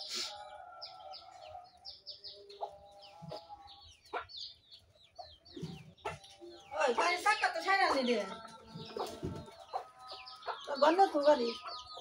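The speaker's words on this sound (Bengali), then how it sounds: "এখানে এক জোড়া দেখতে পাচ্ছেন যে ডাকাডাই করতেছে" A pair of pigeons coo and call in a loft, with soft rolling vocalizations rising toward the end amid scattered flutters and chirps, close and moderately loud.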